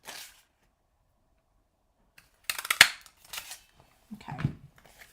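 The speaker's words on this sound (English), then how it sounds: "we got to fussy cut those" Scissors fussy-cutting a punched-out paper mushroom shape for a card, giving a few soft, close snips and crisp paper crunches in short bursts separated by quiet gaps.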